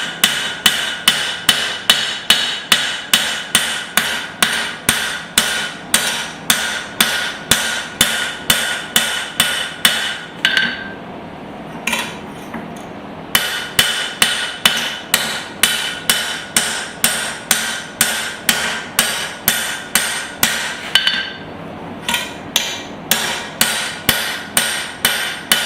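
A hammer forges a small axe in a guillotine forging tool, striking steel in quick, evenly spaced ringing blows. Two short pauses break the rhythm before the hammering resumes.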